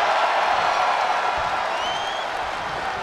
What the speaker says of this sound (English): What a raucous crowd here tonight.